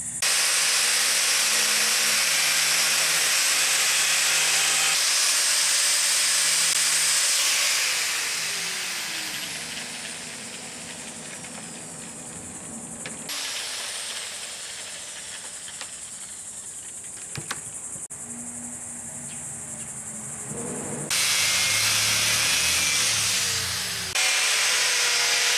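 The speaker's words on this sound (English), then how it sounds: "I'm going to use my normal side grinder with a little thin blade to cut" A side grinder with a thin cutting blade cuts into a damaged fiberglass surfboard, giving a loud continuous high whine and hiss that shifts in pitch as the load changes, stops briefly, then starts again.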